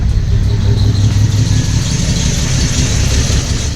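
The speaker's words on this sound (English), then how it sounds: "So counterclockwise should increase the idle." A 2019 road-trip project car idles steadily at close range while its idle speed is adjusted up from 700, a continuous mid-pitched engine hum with no voices.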